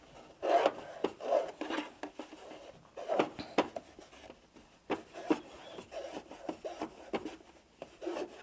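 Fingertips press and rub along quilt fabric seams, a dry, close scratchy rasping in repeated strokes with short pauses.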